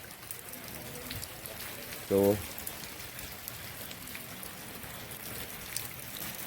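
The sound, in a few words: heavy rain falling in Bagasara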